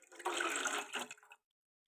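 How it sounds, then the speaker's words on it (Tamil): Water poured into a pot for South Indian curd curry, a short splashing pour of about a second and a half, close and fairly loud, then stopping abruptly into silence. "அதில் கொஞ்சம் தண்ணி ஊற்றி அதை கலக்கி அதில் ஊற்றியாச்சு"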